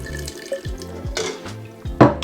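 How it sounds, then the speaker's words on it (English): Water is poured into a dough mixer bowl for high-hydration Le 5 Stagioni Superiore pizza dough, giving a few short splashing pours over a low, steady mechanical hum, with a louder gush near the end. "I might just put a bit of the water in now just to help start things off."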